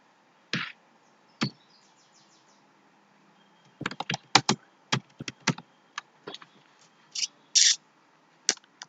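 Computer keyboard typing in short irregular bursts of crisp clicks, with a few isolated presses early on and denser clusters later; faint and close in a quiet room, no talk.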